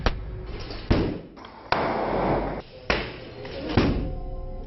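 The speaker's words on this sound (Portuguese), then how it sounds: "As tropas usam granadas que emitem luz e um barulho ensurdecedor." During a police training exercise, stun grenades go off in a series of sharp, loud blasts, each followed by a rumbling echo, with about four bursts in quick succession.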